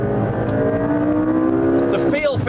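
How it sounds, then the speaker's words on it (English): A 2014 McLaren MP4-12C Spider with a twin-turbo V8 pulls hard at speed, its steady engine drone rising in pitch throughout, loud and close, with a brief shift of tone near the end. "Twin turbo, V8, and okay, I'm only up to 137 there, but it'll top out at 204 miles an hour."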